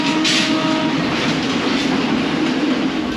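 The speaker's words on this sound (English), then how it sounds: "What concerned me more though was the noise the carriage in front was making as it was bouncing around against our carriage." A Sri Lankan express train rolls along with its carriages bouncing and rattling against each other, giving a loud, dense, continuous rumble and clatter up close with a faint high squeal near the start.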